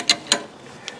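Steel 3/4 inch wrench tightening a nut during a pilot bearing replacement, heard as two sharp metallic ratchet-like clicks close together, then a fainter third click after a pause.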